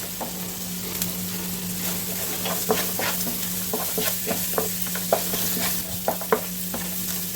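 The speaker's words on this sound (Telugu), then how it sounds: "అల్లం కూడా వేగాక కరివేపాకు వేసి, పచ్చిమిర్చి, ఉల్లిపాయ ముక్కలు వేసి ఇలా అవి లైట్ బ్రౌన్ వచ్చేదాకా వేసుకున్నాం." Ginger, curry leaves, green chillies and onion pieces frying in oil for upma, with a constant sizzle and a low hum beneath, punctuated by regular spatula taps and scrapes close by.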